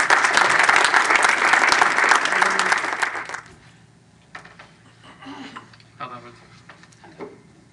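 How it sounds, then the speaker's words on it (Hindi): An audience at an Urdu poetry program breaks into loud, dense applause that runs for about three seconds and then stops abruptly, leaving quiet room tone with scattered faint knocks and small noises. "आपकी ज़ोरदार तालियों के साथ जनाब इरशाद।"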